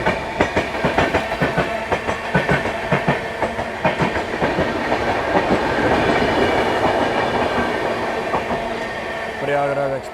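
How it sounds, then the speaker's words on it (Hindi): The Prayagraj Express overtaking on the middle line at the Aligarh outer, heard from an adjacent train: rhythmic clickety-clack of wheels over rail joints, close and loud, settling into a steady rumble with a brief horn-like tone near the end. "प्रयागराज एक्सप्रेस जस्ट हमें आउटर पे ओवरटेक कर गई है"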